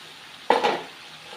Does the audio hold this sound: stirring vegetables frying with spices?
yes